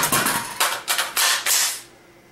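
Metallic clicks and clacks of an AR-15 carbine magazine speed reload, a quick series of sharp mechanical snaps close up, then quiet.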